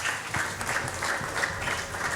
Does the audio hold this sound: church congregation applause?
yes